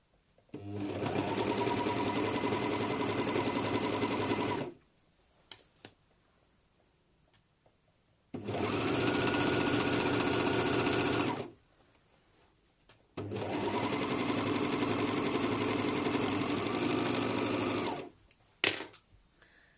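A sewing machine stitches the armband seam of a bralette in three long, steady runs of rapid mechanical whirring, separated by short quiet pauses, loud and close with no talk.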